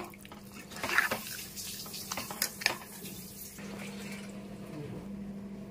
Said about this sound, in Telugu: అయితే ఇంకొంచెం వాటర్ మనం యాడ్ చేద్దామండి